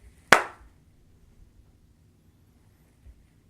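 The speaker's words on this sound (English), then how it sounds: "we do jump and clap" A single sharp clap from dancers landing a jump during a line dance, one crisp hit that quickly fades into near silence.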